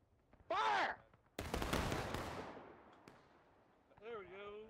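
A company volley of muskets in the American Civil War game War of Rights erupts as one loud, dense crash of many shots that rolls and decays over a couple of seconds, framed by shouted voices before and after.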